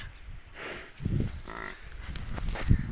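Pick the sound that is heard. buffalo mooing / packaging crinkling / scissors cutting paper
buffalo mooing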